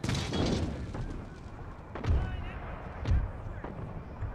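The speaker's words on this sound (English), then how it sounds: "look at all this artillery they're dropping on us" Artillery fire from the Mughal and rival armies in Empire: Total War, heavy booming impacts about once a second over a rumbling battlefield din, with a voice talking faintly underneath.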